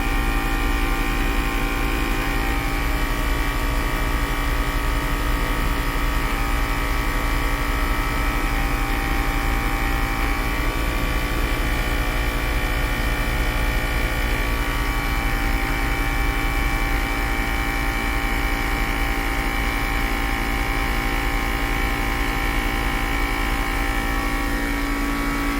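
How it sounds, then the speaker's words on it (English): Air suspension compressor on a Mercedes GL450 pumping fast and loud, a steady, dense mechanical drone that runs unbroken and close throughout, with no speech. "This compressor is just a tiny bit loud, but it does pump really fast."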